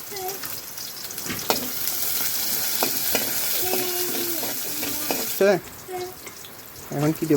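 Onions frying in hot oil in a pan give a steady sizzle throughout, with occasional clinks and stirring noises and someone speaking briefly near the end.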